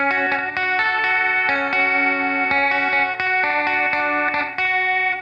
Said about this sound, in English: this animation knob gets things really crazy with some heavy modulated effects